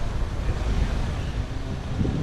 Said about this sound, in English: But it's still pretty windy.